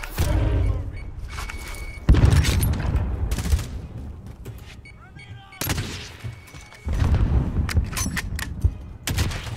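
Bursts of close gunfire in Call of Duty Warzone, with several loud volleys of rapid shots broken by quieter gaps, plus thuds and distant shots, while players talk over the action.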